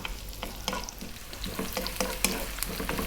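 One cup of onion frying in a pan over medium heat, a dense steady sizzle with frequent crackles and occasional stirring scrapes, close and fairly loud with no voices.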